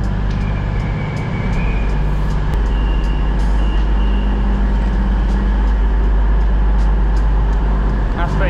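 Ambient noise inside Sheffield train station: a steady low rumble and hum of trains and station machinery, with faint clatter and distant voices blending into a continuous loud wash.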